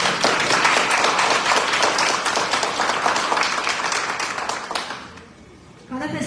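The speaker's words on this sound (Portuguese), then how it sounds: "aplaude Jesus. Bem forte." A youth church service congregation claps loudly and steadily for about five seconds, then the clapping fades out and a voice begins near the end.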